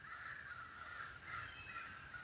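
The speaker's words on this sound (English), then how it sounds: "The birds are liking this one today." Crows caw outdoors in a few drawn-out, harsh calls repeating over steady background hiss, moderately distant and faint with no voices.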